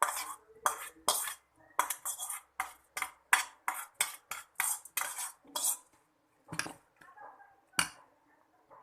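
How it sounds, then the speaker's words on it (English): Fried onions and green chilies being stirred in a pan, with a run of sharp utensil scrapes and clinks against the metal, closely spaced at first then thinning out toward the end, near and fairly quiet. "Now I'll add fried onions and green chilies."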